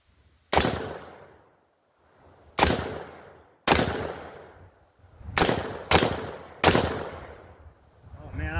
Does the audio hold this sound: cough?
no